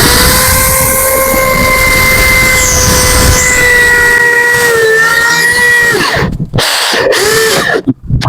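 A hammer drill boring into a PPR water pipe, a loud steady whine with sustained tones and a hiss that break off near the end into short bursts.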